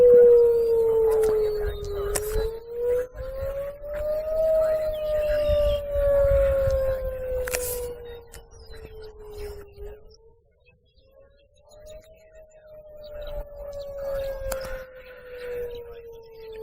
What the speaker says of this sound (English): Tornado sirens going off southwest of Lexington,